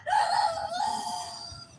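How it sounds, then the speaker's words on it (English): A backyard rooster crows once, a single drawn-out cock-a-doodle-doo that rises and then trails off over almost two seconds, clear and fairly close, with no talking over it. "I guess my rooster said no."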